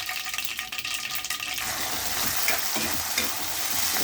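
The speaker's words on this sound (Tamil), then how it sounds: "இப்போ வெங்காயம், பூண்டு, மணத்தக்காளி விதை, கருவேப்பிலை சேர்த்துக்கலாம்." Onion, garlic, manathakkali seeds and curry leaves fry in hot oil with a steady, close sizzle; a spoon scrapes and clatters early on before the crackle settles into an even hiss.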